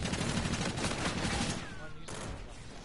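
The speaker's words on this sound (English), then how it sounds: "I don't like that this gun's a burst" Burst-fire gun shooting in a video game, rapid dense volleys of shots packed close together through the first half, then thinning out to scattered bursts and a quieter tail.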